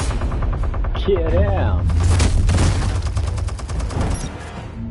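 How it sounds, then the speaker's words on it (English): Rapid machine gun fire rattles in a steady, loud stream in the Telltale Batman video game, with a low hum beneath and a voice speaking briefly over the shooting. "Ooh, big old machine gun."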